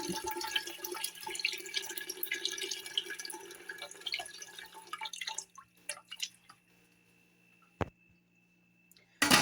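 Water is poured from a cup into a pressure cooker holding black chickpeas, a continuous splashing pour for about five seconds that trails into a few faint drips and a sharp clink near the end.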